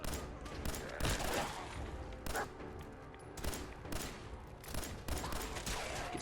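Rapid bursts of gunfire from a first-person shooter video game, repeated volleys and single shots coming in clusters across the clip, loud and close with no voices.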